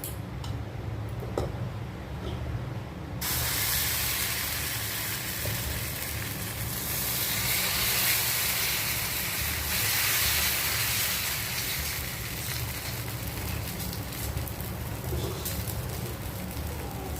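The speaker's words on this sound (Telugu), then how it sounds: "ఇప్పుడు దీనిపైన మేము దోశలు వేస్తున్నాం చూడండి." Dosa batter sizzles on a new iron pan, a steady loud frying hiss that swells after a few seconds and holds for the rest of the clip, with faint ticking crackles and no talk.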